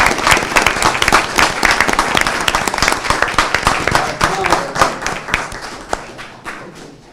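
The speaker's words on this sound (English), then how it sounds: "Let's give a round of applause for them bringing this to our attention" City council meeting audience applauds fire departments, with dense, loud clapping that carries on for several seconds before thinning out and fading toward the end.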